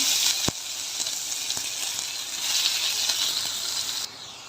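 Chopped onion, curry leaves and chilli sizzle in hot oil in a pan, a steady close hiss with a couple of sharp ticks from the spoon. It cuts down abruptly near the end.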